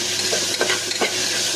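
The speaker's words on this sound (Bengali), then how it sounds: "হালকা করে একটু ফ্রাই করে নিতে হবে।" Vegetables for an egg vegetable soup are stir-fried in a pan, giving a brief, close, continuous sizzle broken by soft stirring scrapes.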